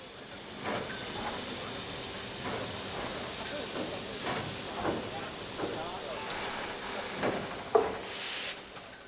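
Preserved Class 52 steam locomotive number 8141 stands on a turntable after a main-line special, releasing a constant soft steam hiss with occasional short bursts and clanks at a moderate distance.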